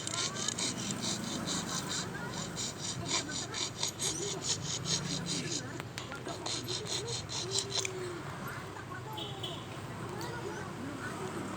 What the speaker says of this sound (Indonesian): Kita potong dulu dengan pemotong besi, gergaji besi ini ya